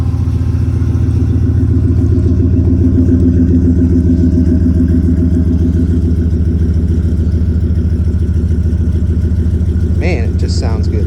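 A 2003 Chevrolet Silverado 1500HD truck with dual exhaust idles with a deep, steady rumble, loud and close, with a faint higher rattle near the end.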